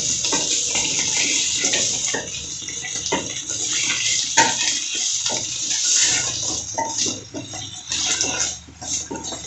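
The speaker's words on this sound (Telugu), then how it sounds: "దీన్ని అట్లా నొక్కినప్పుడల్లా మనకు వాటర్ అనేది బయటకు వస్తుంది కాబట్టి ఇట్లా చిటపట ఉంటుంది." Mint leaves sizzling and crackling in hot oil as they are pressed down in the pan while making Nellore-style podina pachadi, a steady dense hiss with sharper pops and spits throughout.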